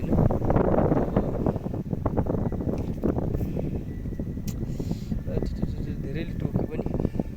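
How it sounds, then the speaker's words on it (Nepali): Outdoor wind buffets the microphone in loud, continuous low rumbling gusts near a bee swarm being hived, with rustling throughout. "तर अहिले हावा चलेको छ,"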